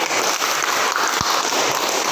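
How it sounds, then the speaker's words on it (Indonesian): A group being applauded in a classroom during a practice teaching session, with dense, continuous clapping that forms an even, rain-like wash of sound, steady and moderately loud throughout. "Sekali lagi tepuk tangan buat kelompok"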